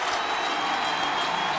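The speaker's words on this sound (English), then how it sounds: "And listen to the crowd." A stadium crowd at a Clemson college football game roars in a continuous, dense wash of cheering and applause, loud and sustained with no distinct voices.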